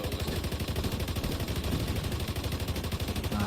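Rapid mortar and gunfire bursts in a video game battle, a dense continuous barrage of overlapping thuds and cracks holding steady and loud throughout.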